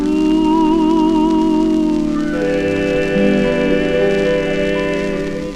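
A 1947 Decca 78 rpm record by a vocal group plays: sustained close-harmony singing over steady accompaniment, loud and continuous with faint surface noise.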